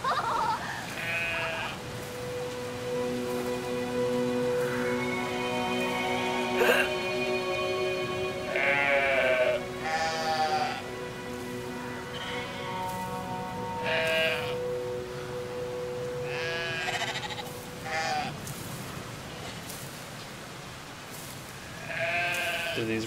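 Repeated bleats from sheep in the video game Brothers: A Tale of Two Sons come in scattered bursts over a steady electronic hum and melodic background, moderately loud and evenly spaced.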